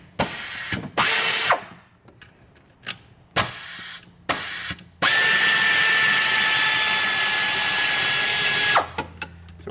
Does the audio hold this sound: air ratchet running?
yes